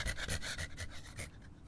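Dog panting in quick, rhythmic breaths close up, soft and steady, heard alone without talk.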